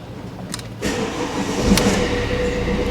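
A Fiat 500X cranks briefly, then the engine catches and settles into a steady idle, heard close up.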